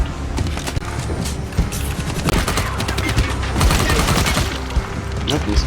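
Rapid bursts of gunfire in the video game Dying Light, loud dense volleys and clattering weapon mechanics filling the whole stretch with few pauses.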